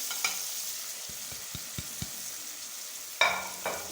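Spices stirred into a pan while making samosa chaat: a soft sizzling bed with a series of light, evenly spaced taps and scrapes of the spoon, then a louder clatter near the end.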